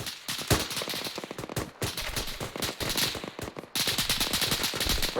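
Rapid bursts of simulated suppressing gunfire during a Reality Gamer reaction-to-contact drill, with dense repeated cracks running loud and continuous throughout, close by, with no talking.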